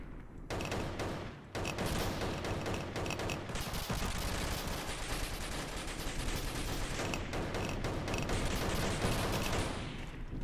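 Rapid shotgun fire in the Roblox game Oof Brigade, a dense, continuous barrage of overlapping blasts that stays loud and close throughout with almost no pause.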